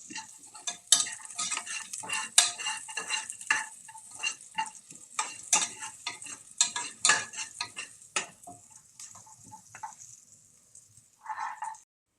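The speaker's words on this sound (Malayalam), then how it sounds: "അതും ഇതിൻ്റെ കൂടെ ഒന്ന് കൂട്ടി യോജിപ്പിച്ച് വഴറ്റി കൊടുക്കാം." Cashew nuts being stirred and sautéed in ghee in a pan for ghee rice, with a spoon scraping and clinking against the metal in irregular bursts under a soft sizzle, close and fairly quiet, trailing off near the end.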